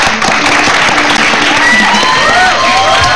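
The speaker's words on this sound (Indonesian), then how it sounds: "Baru tepuk tangan dong buat Umi Pipik nih." Studio audience at a television talk show applauding for Umi Pipik: a loud, continuous roar of clapping with some crowd cheering, close and sustained for the whole moment.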